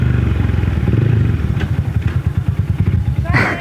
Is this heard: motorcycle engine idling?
yes